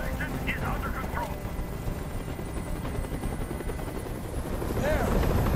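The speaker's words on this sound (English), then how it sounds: "Tell that helicopter to get out of here." A helicopter hovers in the video game Detroit: Become Human, its rotor a loud, steady chopping drone that fills the scene while voices speak intermittently over it.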